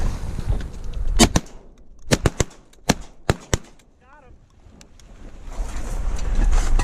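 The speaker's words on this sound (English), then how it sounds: "Gunshot, and I killed this duck." Shotgun blasts during a duck hunt at Emiquon, several sharp loud reports spaced irregularly over a few seconds amid outdoor wind noise, with a brief whistle-like call between them.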